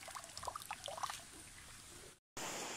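A slow trickle of flowing water runs for rinsing, with soft splashing and dribbling close by, then the sound cuts out briefly before a steadier wash of flowing water returns.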